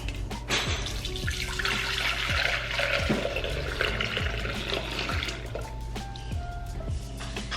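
Homemade almond milk poured through a strainer, a steady close trickle and splash of liquid into a container with small drips, continuous throughout.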